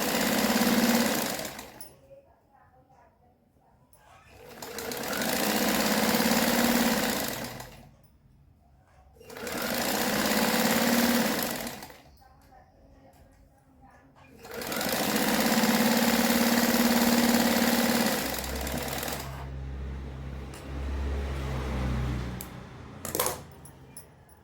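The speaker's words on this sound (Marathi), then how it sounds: "दुसऱ्या पट्टीवर सुद्धा दाब शिलाई घेऊन घ्यायची" Sewing machine stitching a strip onto a Patiala salwar, four loud, steady runs of whirring stitching separated by quiet pauses, ending with softer handling noises and a low hum.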